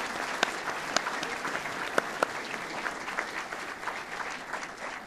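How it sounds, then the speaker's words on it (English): A crowd at an audit readiness celebration claps in sustained, even applause, fairly soft and slightly distant, with occasional sharper single claps rising above the wash. "Let's give them a round of applause."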